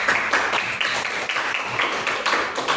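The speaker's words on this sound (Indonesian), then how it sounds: "tepuk tangan." Hands clap steadily in a classroom group activity, a dense burst of applause with regular rhythmic accents, close and fairly loud, with no talking over it.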